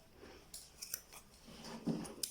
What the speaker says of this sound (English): I'm going to trim it a bit backward.